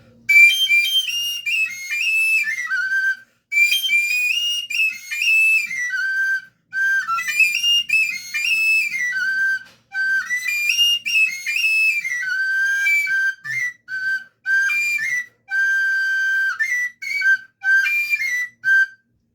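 A pingullo, a small Andean flute, played solo in short melodic phrases of high, clear whistling notes separated by brief pauses, close and fairly loud with no talk.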